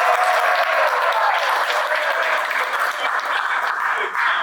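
A high school football team audience cheers and applauds together, a dense, loud wash of clapping and noise sustained throughout with voices mixed into the crowd din.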